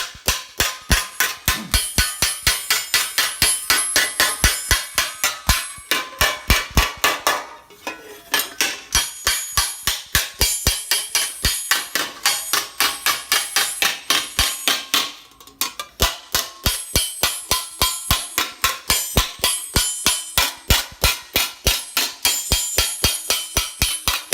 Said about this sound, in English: Basically just hammer them flat as we can.